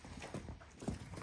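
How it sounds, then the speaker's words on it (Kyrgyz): Kyrgyz horse hooves clip-clopping, a few soft uneven hoofbeats heard faintly at a distance in a brief moment. "Бул дагы өзүнүн ошо кыргыз жылкысы."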